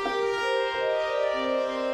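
White noise passing through the comb filter of a Korg Opsix synthesizer, a steady buzzy resonant tone with a stack of evenly spaced harmonics that shifts in pitch partway through, heard alone without talk.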